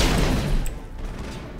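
Sustained video game gunfire from Mass Effect, a dense fusillade of rapid shots blending into a continuous rumbling barrage at steady loudness, with no talk over it.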